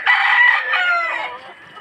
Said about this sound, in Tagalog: ang dami kong manok na pinaglalaban dito